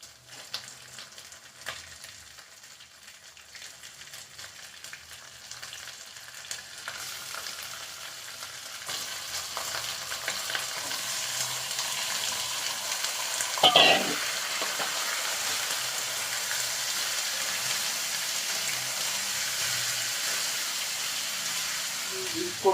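Chicken pieces sizzle with onions in a frying pan, a continuous hissing fry that grows louder midway with a brief stirring clatter, no voice over it.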